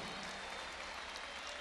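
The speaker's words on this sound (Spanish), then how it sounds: "hay un fuerte aplauso para ustedes" A crowd applauds at the final of a Red Bull freestyle rap battle in Argentina in 2019, a dense, steady wash of clapping that sounds distant and faint and carries on with no break.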